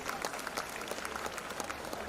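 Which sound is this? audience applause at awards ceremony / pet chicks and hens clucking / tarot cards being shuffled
audience applause at awards ceremony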